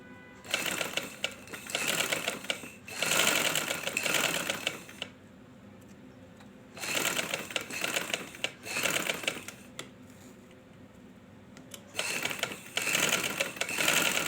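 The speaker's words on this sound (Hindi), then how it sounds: "अपनी सिलाई मुकम्मल करेंगे।" Sewing machine stitching a seam in fabric, running in three long bursts of steady rapid clatter separated by short pauses, close and fairly loud with no talk.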